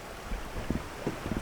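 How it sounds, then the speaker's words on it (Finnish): Wind blowing across Lake Päijänne in Finland beside a small sailboat anchored near an island: a faint, steady rush with soft, irregular low thumps and gusts, and no voices. "Tuulee tuolta saaren takaa"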